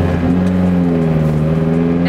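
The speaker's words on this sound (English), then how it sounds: "This car is loud." Car fitted with a 3-inch turbo-back exhaust idles and revs with a loud, droning, steady low rumble heard from close by, the engine note wavering slightly in pitch.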